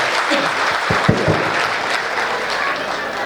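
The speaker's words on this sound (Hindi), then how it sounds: "एक बार उन जवानों के सम्मान में आप तालियां बजाइए।" An audience claps in honour of soldiers, a dense, steady round of applause from a large crowd that holds for a few seconds and then cuts off.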